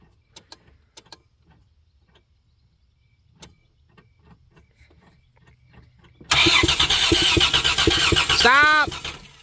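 A 1993 Plymouth Grand Voyager SE, sitting unused for 18 years, cranks over loudly with a steady rhythmic churn for a few seconds. Quiet talk and clicks come before it, and the cranking stops abruptly.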